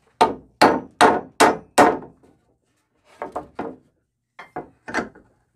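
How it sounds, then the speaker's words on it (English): A hammer works a nail loose from wood: five loud, evenly spaced hard knocks, then two quieter clusters of lighter taps, close up with no talking. "stick your hammer in there sideways"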